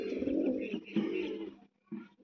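A captured female pigeon gives soft, throaty coos up close, two longer rolling phrases and then a short one after a brief pause.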